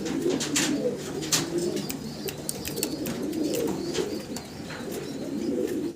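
Bukhara pigeons at a pigeon farm coo repeatedly in low, rolling calls, close and steady, with light fluttering and clicks around them.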